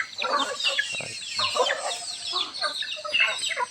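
Native Bisaya chickens cluck and chatter in quick overlapping bursts close by, with a flock busily calling over a quiet rural background.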